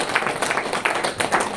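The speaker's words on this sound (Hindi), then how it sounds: "पहले तो इनके लिए तालियां होनी चाहिए" Audience clapping in a hall, a brief burst of dense, steady applause at moderate loudness.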